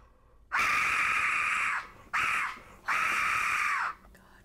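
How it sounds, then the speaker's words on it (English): An Aztec death whistle is blown three times in loud, piercing shrieks like a human scream, two long blasts around a short middle one, heard alone up close. "is my Aztec death whistle. I don't know if you've ever heard one of these."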